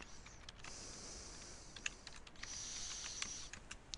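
Fingers typing on a computer keyboard to enter text into a spreadsheet cell: a quiet, irregular run of light key clicks close by, with no talking.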